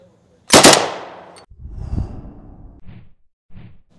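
A German MP38 submachine gun fires a single loud, sharp burst close by, followed by a decaying echo and quieter handling noises.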